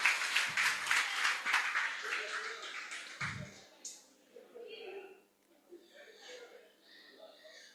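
Audience at a talk claps for participants, a short round of applause with some chuckles that fades within a few seconds, followed by someone speaking.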